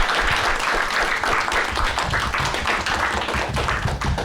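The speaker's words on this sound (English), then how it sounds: "please join me in giving a round of applause to our panelists" Steady, dense applause from a colloquium audience for a panel of speakers, many hands clapping evenly and fairly close throughout.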